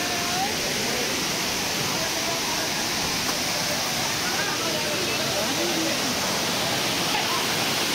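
The Nankeshwar waterfall gives a dense, constant roar of falling water. It is loud and close, with an even, unbroken rush that fills the whole stretch.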